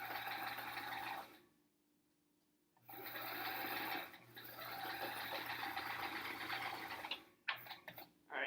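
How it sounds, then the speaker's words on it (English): A sewing machine stitching improv quilt blocks runs in steady loud whirring bursts, stopping for about a second and a half, then resuming, ending with a few choppy starts and stops. "now I think I'll just try and keep sewing"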